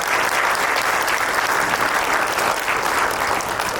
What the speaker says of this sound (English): let's give them a round of applause for being here tonight